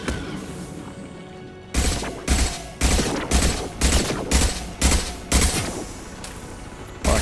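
Gunfire in Mass Effect 2 rings out in about nine loud, evenly spaced heavy shots, roughly one every half second, after a quieter stretch of ambient game background.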